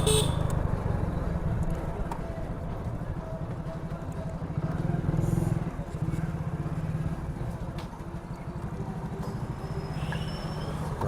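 Busy street traffic in Thiruvananthapuram, Kerala: a constant drone of engines close by, with several car horns honking at intervals over the rumble and faint voices in the background.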